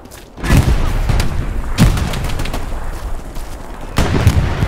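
Gunshots and heavy booms in the World War II shooter Hell Let Loose, several loud, sharp blasts at uneven intervals over a rumbling battlefield, near and punchy.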